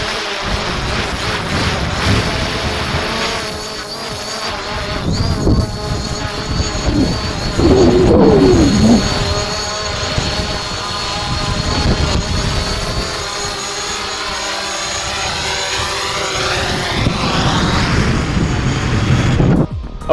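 A small drone flying overhead on its return home during a training exercise, a loud buzzing propeller whine with wavering pitch that swells and recedes, mixed with wind noise and no talk.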